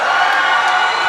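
A small crowd at a livestreamed fighting-game event cheers and shouts steadily, a dense, loud wash of voices holding at an even level throughout.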